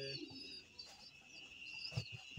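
A pet bird coos softly a few times, faint and close, with light chirps over quiet background noise.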